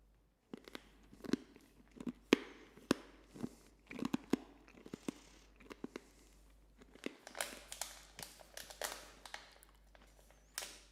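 Crunchy bites and chewing of a roasted snack of finely chopped coconut and dates, close and distinct, with irregular crisp crackles and bursts repeating through the quiet.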